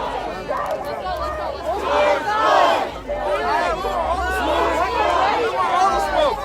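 A large protest crowd facing National Guardsmen in Minneapolis roars with loud shouting and chanting, swelling in waves as a close, dense mass of voices fills the scene.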